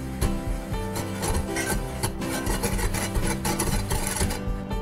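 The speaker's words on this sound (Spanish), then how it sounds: "Mezclamos estos dos ingredientes." Gelatin powder and two sachets of grenetina stirred together in a bowl, a busy close scraping and rubbing with a quick, irregular rhythm, continuous and fairly loud.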